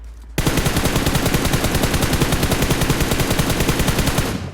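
Rapid, unbroken automatic gunfire from a mobile shooter video game, loud and steady with dense repeated shots sounding the whole way after a brief quiet start, fired with heavy recoil.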